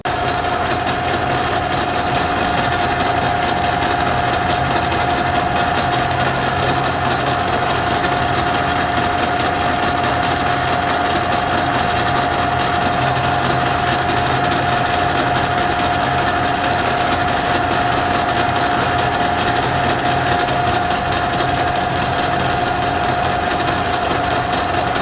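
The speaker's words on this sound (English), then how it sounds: "we're gonna turn our own" A metal lathe turns steel end caps sized for 1 3/4 inch tubing, giving a steady machining drone with a sustained high tonal whine that runs unchanged throughout, with no talking.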